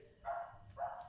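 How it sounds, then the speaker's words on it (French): Two faint, yappy barks from a small dog far away, about half a second apart, in a quiet setting. "C'est un chien de rien du tout, ça se reconnaît à la voix."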